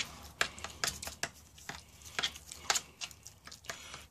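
Low-sodium MRE spaghetti with meat and textured soy flour sauce being stirred in its pouch or container: soft, irregular scraping and tapping strokes close up, fairly quiet, with no talk.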